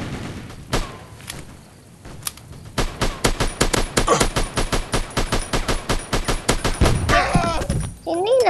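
Rapid automatic gunfire from a mobile multiplayer shooter game, loud bursts of evenly spaced shots running several seconds with explosive thumps and game effects around them, a voice talking faintly underneath.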